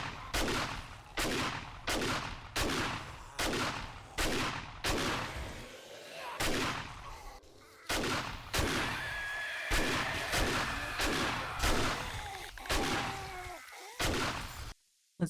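In 7 Days to Die, a shotgun fires loud, close blasts in steady succession, roughly one every second, about fifteen in all, each with a short booming tail and a brief pause near the middle.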